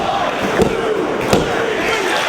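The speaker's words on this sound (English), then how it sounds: "What a red hot crowd here in Detroit" A packed ROH wrestling crowd in Detroit roars steadily, loud and close, with a few sharp slaps or thuds standing out from the continuous cheering and no clear talk over it.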